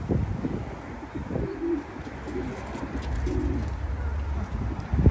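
Racing pigeons on a rooftop coo in soft, low repeated calls, a few separate coos spread over several seconds against a steady outdoor background, with no talking.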